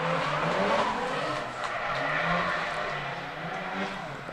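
Drift cars race nose to tail on a street-league course, engines howling and tires squealing continuously at close range, loud and steady with shifting pitch and no talk.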